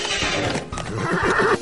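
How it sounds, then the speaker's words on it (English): A farm horse neighs loudly and close, a shaky whinny rising and falling over nearly two seconds, with faint hoof clatter underneath. "Can I feed some leaves to the horse, Anne?"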